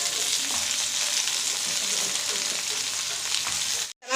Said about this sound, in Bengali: ভাজা হয়ে গেছে, এবার আমি এর মধ্যে শাকগুলো দিয়ে দেবো